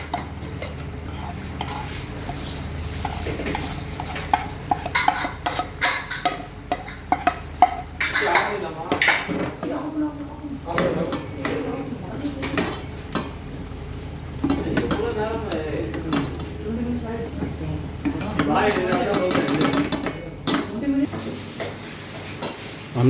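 Whole spices, red chillies, green cardamom, cloves, black pepper and bay leaves, go into hot oil in a pot for Eid pulao, sizzling and frying under repeated metal stirring and scraping clinks, close, with occasional talk.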